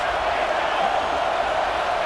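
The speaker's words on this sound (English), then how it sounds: "This crowd trying to make life miserable for this offense." A packed stadium crowd in EA Sports College Football 26 roars in a steady, loud wash of noise with no distinct breaks, the kind of sustained rumble meant to rattle an offense.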